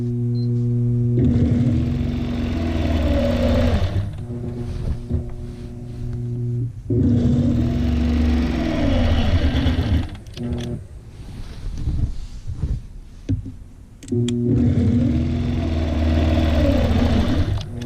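Sewing machine quilting the border of an appliqué quilt, running in bursts of rapid mechanical stitching separated by short pauses, close and fairly loud.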